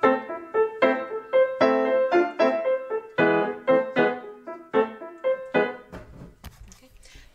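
Piano playing The Wild Horseman with both hands, melody over chordal accompaniment in a brisk rhythm of repeated notes, close and clear, ending in a faint rustle.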